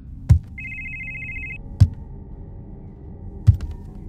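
An old cellphone inside a black bag rings with a single steady electronic tone lasting about a second, muffled and close, set against three heavy thuds spaced far apart and a faint background hum.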